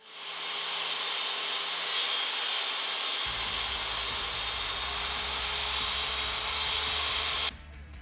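A saw trims wood strips to width with one continuous, loud rasping cut that runs nearly the whole time and then stops abruptly near the end.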